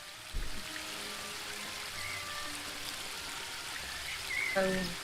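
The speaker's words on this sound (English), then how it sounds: "The waterfall and I have been neighbours for so long that I don't..." Waterfall in the video game The Book of Unwritten Tales, a steady rushing wash of falling water that runs throughout at an even level beneath a voice and faint tonal game sounds.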